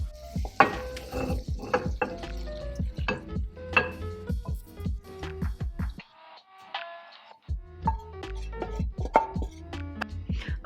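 Teriyaki chicken with broccoli being dished up from a pan, with a steady run of close metal scrapes, clinks and knocks of a utensil against the pan, broken by a short pause midway, no voices.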